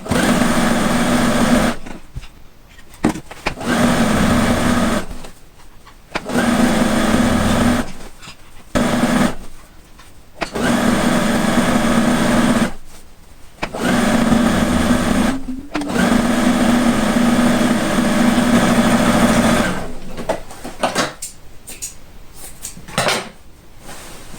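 A sewing machine stitches a fabric binding strip onto the side of a quilt, humming loudly and close in long steady runs broken by short pauses.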